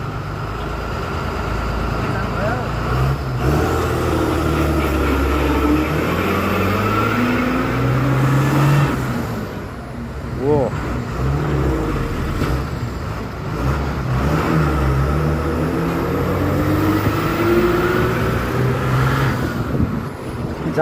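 A vehicle engine rumbles low and continuously while creeping through a traffic jam, with other road traffic, faint hisses and a voice speaking briefly nearby.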